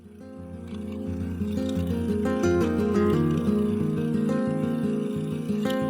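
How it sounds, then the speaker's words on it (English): A wood lathe spins up to about 1000 RPM turning a cherry blank, with a rising motor whine that settles into a steady tonal hum. "I turned the speed up to around 1000 RPM and began turning."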